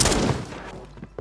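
Burst of video game gunfire, a dense volley of shots at the start that thins out, with one more sharp report near the end; loud and close, no talking.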